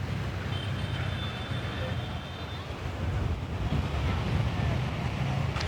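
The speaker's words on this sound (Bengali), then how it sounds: "ঢেউ কিন্তু মারাত্মক আছে, মারাত্মক ঢেউ" Strong monsoon sea waves at Puri beach under a cloudy sky, a loud rolling roar of surf mixed with heavy wind buffeting the microphone, swelling steadily toward the end.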